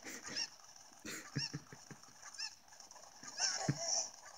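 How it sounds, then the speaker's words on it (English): Repeated honking clucks from attacking Zelda game chickens (Cuccos), a handful of loud calls spaced about a second apart, with scratchy clicks between them. "I'm getting attacked by chickens"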